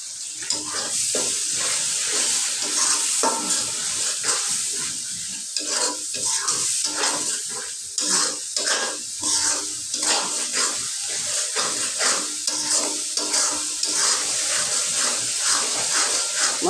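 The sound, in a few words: frying and stirring spice masala for pabda fish curry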